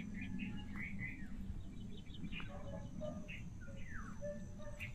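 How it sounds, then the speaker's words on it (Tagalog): Several birds chirp and trill in short, scattered calls over a steady low rumble of background noise in a hot cemetery, with the birdsong carrying at moderate distance throughout. "Mga huni lang talaga ng ibon ang naano ko."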